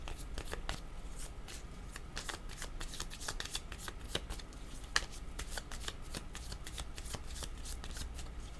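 Tarot cards are shuffled steadily before a card is drawn, giving a continuous run of quick papery riffles and flicks up close, with no talking.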